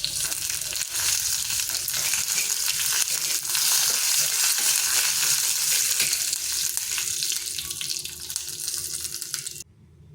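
Red mustard seeds sizzle and crackle in hot oil with curry leaves and a dried chili after the gas is switched off, a loud dense hiss that fades and cuts off near the end.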